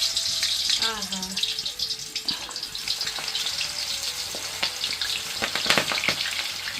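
Pakora batter sizzles and crackles steadily in hot oil in a kadhai. The dense, continuous frying hiss runs throughout, and a voice briefly exclaims over it.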